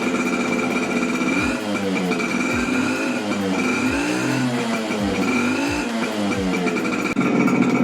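A Suzuki A100 two-stroke motorcycle engine revs loud and close, its pitch rising and falling through about five repeated throttle blips over a steady idle, with no talking.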